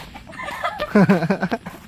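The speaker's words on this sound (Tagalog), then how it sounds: "Tamo, kakaibang manok oh." A chicken clucks nearby in a quick run of rising, squawky calls, loud and close over faint background noise.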